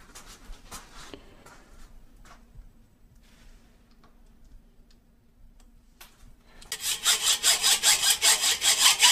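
Hand saw cutting wood along a saw guide while building a cockpit setup: after quiet clicks and light handling, steady back-and-forth sawing strokes start, loud, close and evenly rhythmic.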